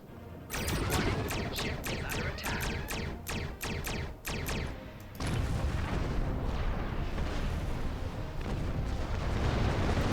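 A Klingon military satellite blows up in the space game Star Trek Online, a burst of rapid booming blasts followed by a long, loud, rumbling roar of destruction.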